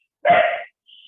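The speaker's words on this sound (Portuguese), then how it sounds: "Agora sou eu aqui com o barulho, depois é a cachorra." A female dog gives a single loud, close bark, followed by a faint thin tone; no one talks.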